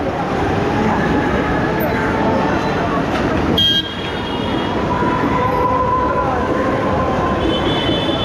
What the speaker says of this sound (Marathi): बघा, ट्रेन चालली आहे इथून.